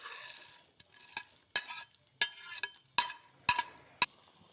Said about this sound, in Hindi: हमारा प्याज फ्राई हो गया। अब हम इसमें करेले डाल के रख देंगे।